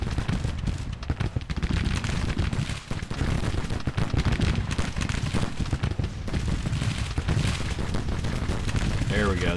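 Dense, continuous Civil War battle din in Grand Tactician, massed musket volleys and booming artillery rolling together without pause, with someone narrating over the fighting.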